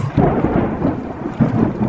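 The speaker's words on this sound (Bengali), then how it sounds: "আকাশ চিরে এক প্রচণ্ড বিদ্যুৎ চমকালো। তারপরে শুরু হলো তুমুল ঝড় বৃষ্টি।" Deep rumbling thunder rolls in two swells over a continuous wash of heavy rain.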